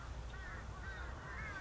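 Crows flocking in to feed at a winter feeding site where vultures are fed, a few rough caws rising over steady low outdoor rumble and background noise.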